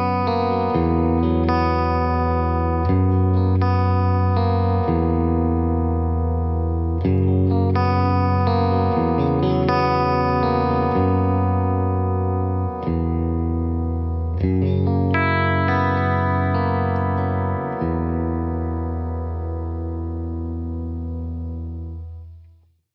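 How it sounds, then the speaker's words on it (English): An electric guitar plays sustained chords through a Fender Bubbler chorus pedal, its shimmering wobble changing speed as the pedal switches rates, with the last chord ringing out and decaying to silence. "So there's a look at the Fender Bubbler Chorus Pedal."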